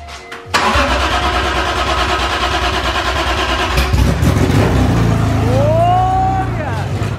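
A BMW E46 M3 engine, newly installed, cranks and then catches, revving into a loud, rumbling idle up close, with a rising whine near the end.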